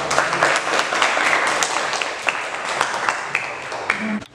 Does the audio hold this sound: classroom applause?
yes